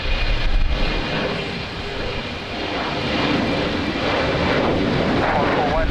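An airliner going around at Lisbon Airport in strong wind, its engines roaring steadily and loud throughout, close by with a broad rumble that swells slightly toward the end.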